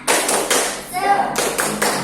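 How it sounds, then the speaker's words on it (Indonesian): A classroom group performs a tepuk semangat spirit clap: close, sharp claps in a steady rhythm, broken midway by a short chanted voice, then more claps. "Mari kita tepuk semangat bersama-sama."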